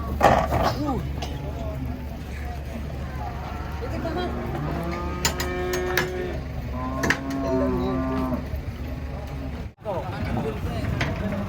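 A cow coming down off a truck moos several times in long, wavering calls amid engine rumble and people talking and shouting nearby.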